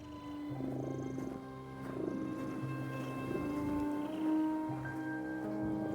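A cat in the video game The Midnight Walk purrs softly and steadily, a low rumbling drone over quiet layered game music.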